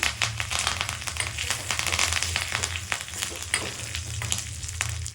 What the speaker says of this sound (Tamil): இப்போ நமக்கு கடுகு வெடிச்சிருச்சு, உளுந்து செவந்துருச்சு